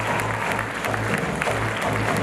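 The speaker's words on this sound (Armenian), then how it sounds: "ձեր ծափարությունները։" Audience at a 15th anniversary concert of a cultural organization, applauding steadily, dense sustained clapping filling the hall with a low rhythmic tone underneath.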